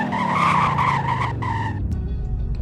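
A car braking hard in the Roblox game Greenville, a loud close tire screech that slides downward and fades out in under two seconds over the engine rumble.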